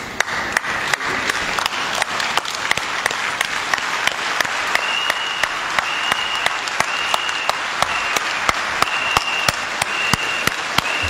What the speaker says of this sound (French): Un standing ovation, comme l'a demandé le président de la République.